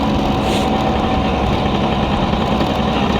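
Suzuki Crystal small-cc two-stroke motorcycle engine running continuously, close and loud, with a steady buzzy drone and no talking.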